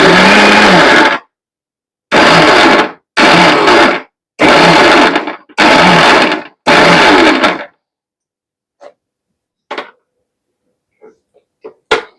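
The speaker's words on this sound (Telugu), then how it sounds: "ఆన్ ఆఫ్ చేస్తూ మిక్సీ పట్టాలి" An electric mixer grinder coarsely grinds cabbage chutney in six short, loud, pulsed bursts of about a second each. A few faint clicks follow in near silence.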